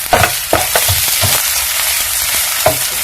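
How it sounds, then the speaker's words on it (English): Onions, green onions, garlic and ginger fry in a pan, a loud continuous sizzle broken by several knocks and scrapes of stirring. "I'm going to fry my mixture here to golden brown."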